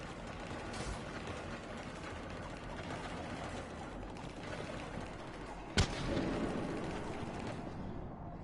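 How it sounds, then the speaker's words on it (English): Distant muffled gunfire and rumbling battle noise rolls under a steady background in Mass Effect Legendary Edition, with one sharp close shot cracking out near the end. "Shepard, I hear gunfire."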